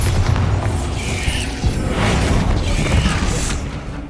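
A Bombarda explosion spell in Hogwarts Legacy erupts as a loud, rumbling boom with crashing debris. Dense low-end blasts roll continuously across the moment with no speech over them.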